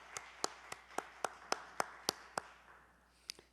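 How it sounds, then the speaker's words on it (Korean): A handful of church staff and ministers clap in a sparse, steady rhythm of about ten distinct claps in a quiet, reverberant sanctuary, trailing off with a couple of final claps. "예, 박수 소리 나지요."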